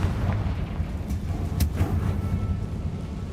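Confringo blasting spell in Hogwarts Legacy, heavy rumbling booms with a couple of sharper cracks, loud and sustained throughout.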